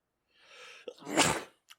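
A single close sneeze: a breathy inhale builds up, then bursts into a sharp, loud expulsion right into a microphone, followed by a brief small catch of breath.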